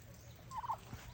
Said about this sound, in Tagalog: Tapos ang ating mga alagang manok. Meron tayong Rhode Island Red dito.